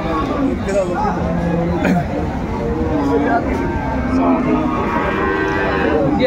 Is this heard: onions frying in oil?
no